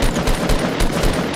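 Rapid bursts of automatic gunfire in a Fortnite match, loud and close, several sharp shots per second running continuously with no speech.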